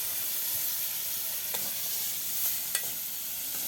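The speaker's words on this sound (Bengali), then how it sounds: "মশলাগুলোর সাথে চিংড়ি মাছের শুটকিটাও ভাজি ভাজি করে নেবে।" Dried shrimp frying with ground spices in a pan, a soft, even sizzle with a couple of faint stirring clicks, quiet and steady throughout.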